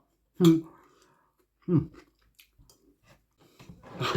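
Someone eats papaya soup with brown rice, making close, wet chewing and mouth sounds in a few separate bursts with quiet gaps between them.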